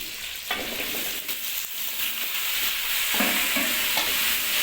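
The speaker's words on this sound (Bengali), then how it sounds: "আলু দিয়ে একটু নেড়ে নিতে হবে ভালোভাবে।" Potatoes and tomatoes fry in a pan while being stirred, a steady bright sizzle broken by scraping spatula strokes and a few clunks against the pan, close and continuous.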